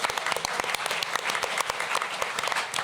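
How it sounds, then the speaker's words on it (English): A small panel audience applauds the three people who pitched at a professional pitching session, a steady burst of close, crisp handclaps carrying through the whole moment. "a special round of applause for those three of you that pitched today"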